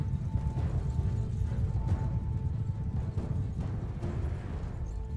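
Horse archers' hooves pounding across open ground in the Bannerlord video game, a steady mass of galloping clip-clop at moderate distance with a continuous low rumble and occasional whinnies.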